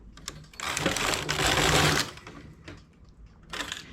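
A domestic knitting machine's carriage runs across its needle bed, a loud rattling, clattering pass that swells for about a second and a half, stops, then a shorter clack and a second brief pass close by, without speech.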